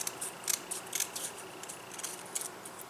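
Scissors snip through a paper Bible book tab in a quiet room, a series of small, sharp, close cuts in an irregular rhythm with no talking.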